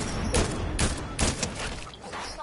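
Video game gunfire crackles in a rapid, dense volley, with a few louder bursts punching through a continuous rattle at moderate volume.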